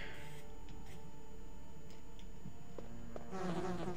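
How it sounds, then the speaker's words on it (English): Insect buzzing from bees in the PS1 game Resident Evil, a steady droning hum over background game ambience, with a louder burst of activity near the end. "I think the bees are in here."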